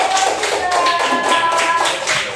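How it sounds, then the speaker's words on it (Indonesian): A short burst of applause for a presenter in a classroom-style session, brisk hand claps from a small group, close and fairly loud, with no talking. "Terima kasih tepuk tangan untuk Bapak"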